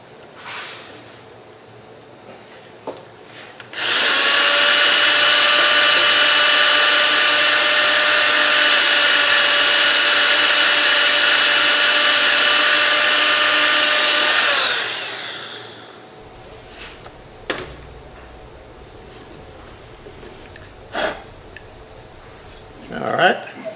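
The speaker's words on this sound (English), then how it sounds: "I keep doing that till I get all 5 of these rings drilled." A power drill bores into a wooden cryptex ring. A loud, steady high whine runs for about ten seconds, then winds down, followed by scattered handling clicks and knocks and someone speaking.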